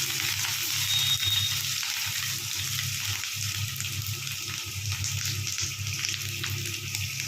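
Potatoes fry in hot oil with dried red chilli, black cumin and grated ginger for a hilsa fish dish, a steady close sizzle over a low kitchen hum, with no talking.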